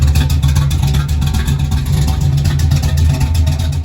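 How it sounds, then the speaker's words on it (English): A 1966 Buick Wildcat classic car named Hefty, suffering fuel pump trouble, rumbles as it is moved toward a garage, its throaty exhaust pulsing loud and steady up close with no talking. "you just gotta love the beat, the music of Hefty's exhaust note"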